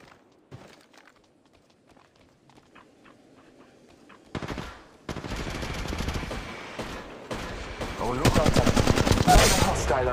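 Rapid gunfire in Apex Legends Mobile gameplay starts after a quiet stretch and builds into loud, continuous automatic bursts with clattering effects.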